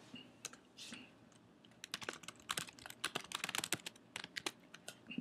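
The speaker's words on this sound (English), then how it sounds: "And whatever message that I type here" Someone types a tweet on a computer keyboard nearby. Quiet scattered keystrokes at first give way to a quick, dense run of clicks.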